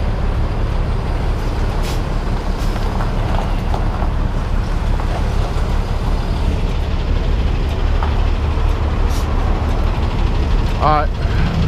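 A pickup truck engine idles and rumbles steadily while maneuvering at a site where a 10,000 lb pump was struck, with occasional clanks and a brief squeal near the end, and voices shouting directions throughout.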